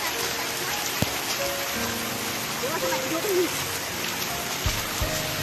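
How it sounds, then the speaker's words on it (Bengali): Rain falls steadily near a flooded bridge in the morning, a constant soft hiss of drops under faint talk and a few brief knocks. "দেখো এই যে বৃষ্টি পড়ছে"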